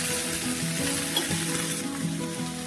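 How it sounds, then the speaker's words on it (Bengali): Ridge gourd and potato pieces fry in a pan, a dense, close sizzle with stirring scrapes, loud and continuous throughout the short stretch. "ঝিঙে আর আলু লাল লাল করে ভেজে নিচ্ছি।"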